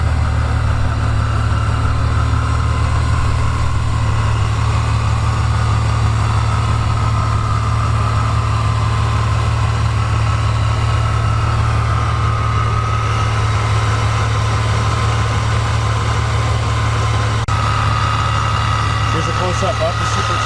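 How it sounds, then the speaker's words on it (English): A supercharged car engine idles with its blower whining steadily on top of a deep, constant engine rumble, close and loud and unchanging throughout. "You can very clearly hear the blower going."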